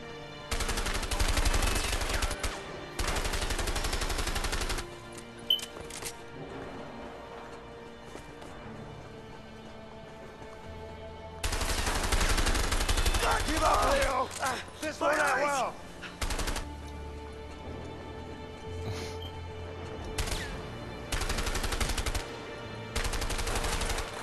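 Gunfire in A Way Out comes in bursts of rapid, loud shots, with quieter stretches between volleys and a long sustained barrage in the middle, alongside hoof-like clattering.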